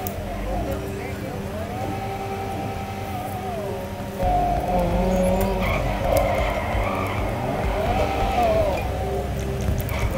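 Spawned car driving in GTA 5 on a gaming laptop, a steady engine hum with tire skids and rising whines, loud and continuous, with a voice talking over it.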